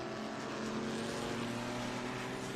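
Porsche GT race cars at Indianapolis Motor Speedway, among them the No. 72 and No. 15, give a steady, sustained engine drone that holds evenly at moderate distance throughout.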